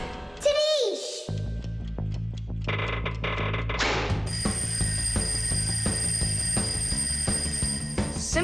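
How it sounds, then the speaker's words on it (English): An animated cartoon alarm clock rings with a continuous, bright, high-pitched metallic trill through the second half, after a stretch of voices and clattering cartoon effects. "I think I can hear my alarm ringing."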